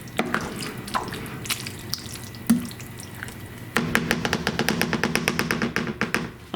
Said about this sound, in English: I forgot it kind of bubbles up and farts at you